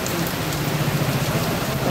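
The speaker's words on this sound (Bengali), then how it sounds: "ধীরে ধীরে বৃষ্টি পড়ছে, দেখতে খুব সুন্দর লাগছে।" Steady rain pours down in an even, dense patter, fairly close and constant throughout, with no voices.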